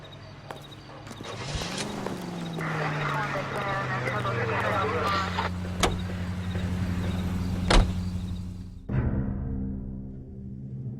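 A car in the video game L.A. Noire: a steady low engine hum runs under the scene, with a brief rise as it pulls away and a door or thump near the end, while voices talk throughout.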